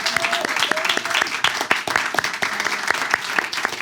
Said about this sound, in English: Let's give Nando another round of applause.